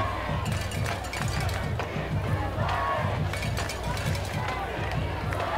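A high school football game crowd in the stands, Milan versus South Gibson, makes a steady murmur and shuffle as people file out, with scattered clinks and footsteps and voices talking throughout.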